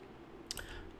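A single faint computer click, a short crisp tick over a low steady room hum, with a second softer tick just after, alone and close.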